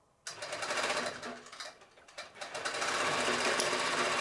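A computerized quilting machine runs steadily as it sews a small lock stitch, giving a close, busy mechanical whir that starts abruptly and grows louder and more constant toward the end.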